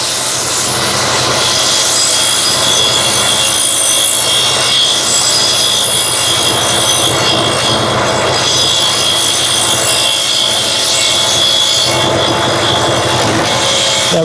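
A wooden bolt is cut in a threading jig, making a steady loud rasping, scraping grind that carries on without a break for about fourteen seconds, with no talking over it.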